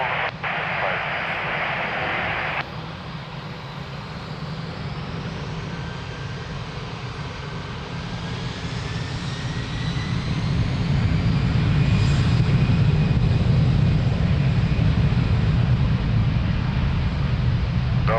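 An airliner departing from runway 02 at Lisbon Airport, a broad steady engine roar with a faint rising whine that swells gradually louder as the aircraft accelerates, heard from a distance without talk.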